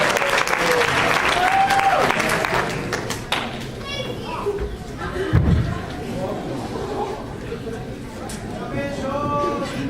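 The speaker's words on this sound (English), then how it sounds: "One more round of applause for the choral music from the teachers" Applause from a crowd fills the room, steady clapping mixed with murmuring voices and scattered thumps, continuing throughout.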